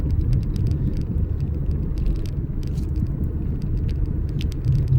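Small car climbing a steep road, its engine a low, steady rumble with road noise and occasional rattles, close and continuous with no talk.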